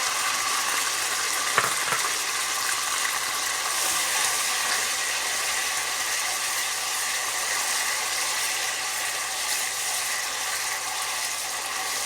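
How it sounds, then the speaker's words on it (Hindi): Tomato, cumin and ginger garlic paste stir fry in a pan with a steady, close sizzle and crackle throughout, a single soft clink of a utensil near the start. "टमाटर, ज़ीरा, जिंजर गार्लिक पेस्ट अच्छी तरह से स्टर फ्राई हो गए।"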